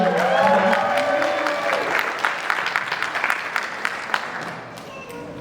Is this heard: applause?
yes